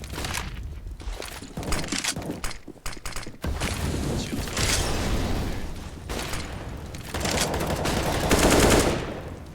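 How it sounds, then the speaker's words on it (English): Gunfire and a molotov fire in a Counter-Strike match, with rapid bursts of automatic shots, single cracks and fiery rushing noise in dense, loud clusters that pause briefly and then swell again. "Shots and the molly kills Rainier."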